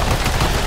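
Dense, continuous gunfire in a Call of Duty MW3 Zombies boss fight, a loud, unbroken burst of rapid shots with no voices over it.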